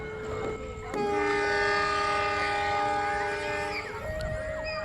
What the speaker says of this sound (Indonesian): klakson udah dibunyikan dari kereta api Tawangalun